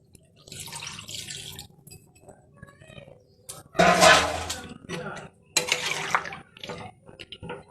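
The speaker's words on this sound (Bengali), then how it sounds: "জল দিয়ে দিলাম।" Water poured into a pan of cooking meat gives a splashy, hissing burst with clinks and drips, coming in a few short bouts between quiet stretches while a person talks.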